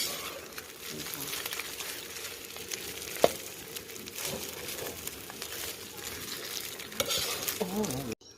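A spatula scrapes and stirs egg fried rice with grilled pork in a hot pan, with a continuous soft sizzle and occasional clinks, while someone talks intermittently.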